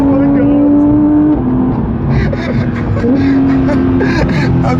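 A Porsche 992 GT3 without a rear wing drones loudly from inside the cabin on a road, its engine note shifting pitch with gear changes while people talk over it.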